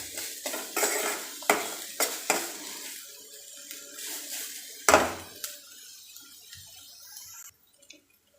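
Vegetables sautéed and stirred in a pan for appam batter, a spoon scraping and clattering rhythmically against the pan over a soft sizzle, the stirring fading to quiet near the end.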